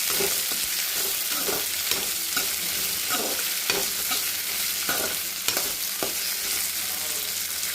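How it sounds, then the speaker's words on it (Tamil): Shallots and okra sauté with salt in a pan, a continuous sizzle broken by regular scraping and tapping strokes of a spoon stirring the vegetables, close up. "சின்ன வெங்காயம் போட்டுக்கலாம் வெங்காயம் வதங்கினா இப்போ வெண்டைக்காய் போட்டுக்கலாம் உப்பு உப்பு நல்லா வதக்கலாம்"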